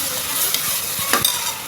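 A brief stretch of frying for egg biryani: close, steady sizzle with a couple of quick spatula strokes scraping the pan.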